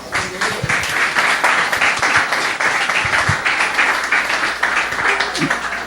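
A church congregation claps during a sermon, filling the room with dense, continuous applause that holds at an even level throughout, with no talking on top.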